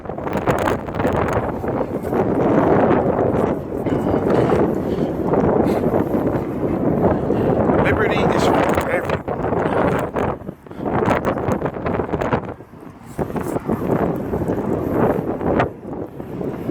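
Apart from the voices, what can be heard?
wind blowing into the microphone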